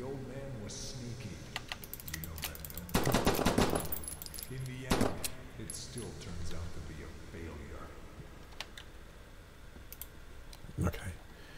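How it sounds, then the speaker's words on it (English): Rapid bursts of gunfire in the horror game Exist, with shots fired frantically in quick clusters, mixed with keyboard clatter and game sounds, moderately loud and close. "Shot frantically and wasted a lot of ammo."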